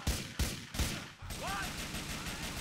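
Gunfire in the game GTA IV: three sharp, loud shots in quick succession followed by a busier stretch of muffled game noise with a brief whistling tone.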